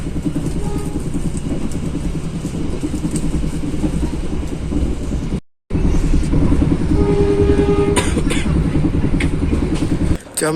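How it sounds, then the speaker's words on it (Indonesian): Probowangi passenger train departing Probolinggo station, a loud continuous rumble and rattle of wagons close by, with a brief dropout, a horn-like tone and sharp clanks toward the end. "Jam 8:02 kereta api Probowangi kembali diberangkatkan dari stasiun Probolinggo dengan tujuan akhir ke stasiun Ketapang."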